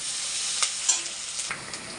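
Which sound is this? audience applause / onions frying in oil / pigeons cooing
onions frying in oil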